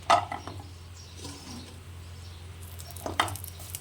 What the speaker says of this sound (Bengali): একটু গরম করে নিয়ে এই বড়িগুলোকে প্রথমে ভেজে নেব হালকা করে